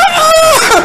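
A voice imitates a chicken over a PA system, a loud, close, nasal squawk with a sliding pitch, brief and echoing through the speakers.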